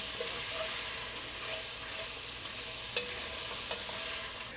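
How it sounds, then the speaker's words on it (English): Sliced smoked sausage fries in a pan for a quick cassoulet, an even close hissing sizzle that runs steadily, broken by a couple of sharp clicks, with no talk. "we're just going to put that in there for a few minutes just to give it a little start and a little color"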